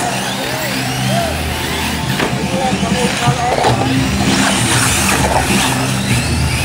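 Racing trucks in an SC Open A Main race, engines droning and shifting in pitch as they circle the track, loud and close, with an announcer's voice talking over the engine noise.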